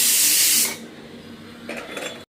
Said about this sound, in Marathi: आपल्याला कुकरच्या 2 शिट्ट्या करून घ्यायच्या आहेत